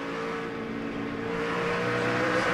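A NASCAR stock car in the Food City 500 runs off the throttle through a corner, its engine a steady, droning rumble that swells slightly toward the end, heard alone without talk.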